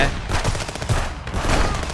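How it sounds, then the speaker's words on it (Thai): Dense gunfire rattles almost continuously in the Contraband Police video game, loud rapid shots blending into a busy burst. "รีโหลดก่อนทุกคนระวังด้วย ยิงกันไปก่อนนะ"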